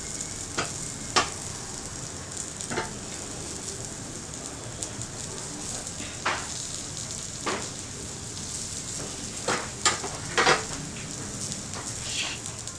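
Pieces of elephant foot yam fry in hot oil in a home kitchen, a steady soft sizzle with scattered sharp crackles and pops and occasional utensil clinks, heard alone without talk.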